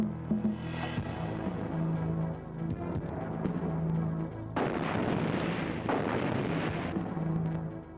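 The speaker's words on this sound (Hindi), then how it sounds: "ये तो चलाओ गोली।" Gunfire in a Hindi dubbed South Indian action movie: heavy booming shots with dense crackling bursts over a low droning score, loud and sustained through the second half.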